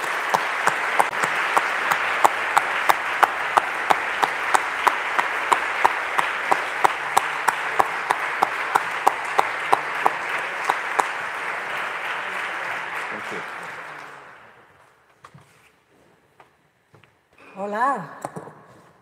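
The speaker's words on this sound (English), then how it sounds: "Please welcome our president with a warm applause." Warm audience applause at the opening of an IFLA president's meeting, steady and full for about fourteen seconds before dying away, followed by a few faint sounds and a brief voice.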